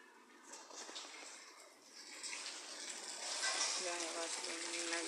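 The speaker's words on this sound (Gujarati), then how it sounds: "હાલનો વરસાદ ચાલુ છે ધીમે ધીમે" Steady light rain patters and water runs, a soft continuous wash that gradually swells louder, with a trickling, bubbling stream near the end.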